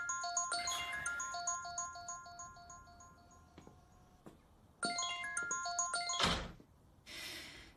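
A mobile phone ringtone plays a bright, repeating electronic melody in two bursts, separated by a short pause and a dull thunk.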